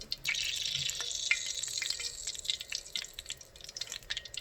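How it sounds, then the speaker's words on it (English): Oil heating in a pan for frying empanadas gives a steady, soft crackle with small scattered pops and bubbling, close and even throughout, with no talking. "So here we're getting our grease hot."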